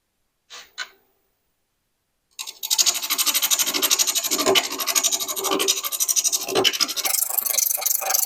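A wood lathe spins a green wood bowl blank at about 760 to 800 RPM while a tool cuts it, a loud continuous rasping scrape with a rapid rhythmic flutter, preceded by a couple of brief taps and silence.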